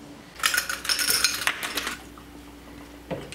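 Ice cubes clatter and clink into a glass in a quick burst, followed by a few lighter glassy taps as grenadine goes in for a Phantom Fizz cocktail, close and clear with no talking.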